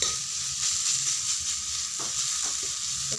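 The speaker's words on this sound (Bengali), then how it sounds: "ভালো করে একটু ভেজে নিতে হবে।" Ingredients for a ginger-garlic paratha fry in a pan with a constant close sizzle, broken by a few light stirring scrapes, and no talk.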